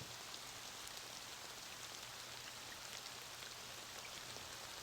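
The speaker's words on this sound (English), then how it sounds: "Wow, I've never seen it actually rain." Steady rain falling in an Apple Vision Pro immersive environment, a dense, even hiss of drops that holds at a constant level throughout with no voices.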